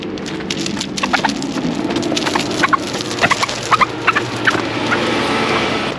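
A flock of small birds gathers around feed pellets scattered near a rural cabin, with bursts of high chirps scattered throughout over a steady outdoor background.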